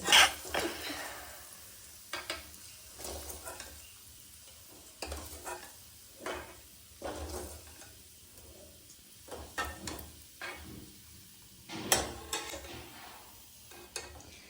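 Food sizzles in a pan with scraping and stirring noises coming in irregular bursts, fairly quiet, with no talking.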